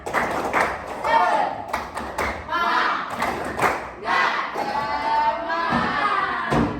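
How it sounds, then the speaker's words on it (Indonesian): A school class claps together in quick rhythmic bursts while voices shout and chant along, the claps loud and close, slightly uneven. "Tepuk semangat."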